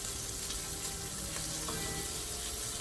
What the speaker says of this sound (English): the pancetta, while it's cooking, just like bacon, it will release its own fat